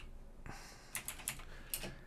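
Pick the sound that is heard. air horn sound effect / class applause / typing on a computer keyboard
typing on a computer keyboard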